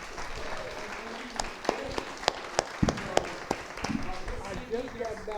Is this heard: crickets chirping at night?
no